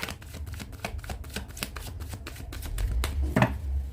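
A deck of cards is shuffled by hand at close range, with a quick run of crisp riffling flutters and soft taps, fairly quiet, with no talking.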